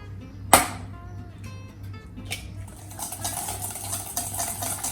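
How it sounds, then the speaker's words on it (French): Whole eggs whisked with sugar in a bowl for marshmallows at a children's cooking workshop, a steady clinking and scraping of the whisk after a sharp knock, continuing close and moderately loud without talk. "On fouette bien donc nos œufs"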